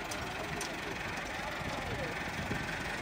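A tractor engine with a broken bearing runs steadily at a low idle-like rumble, continuous and moderately close, with a voice speaking over it.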